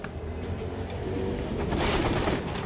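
Racing pigeons coo steadily inside a club loft, a soft continuous murmur of several birds close by, growing slightly denser toward the end.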